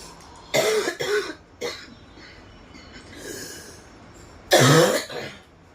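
Two harsh, throaty coughs close by, then a quieter stretch of breathing before another loud, rasping cough near the end.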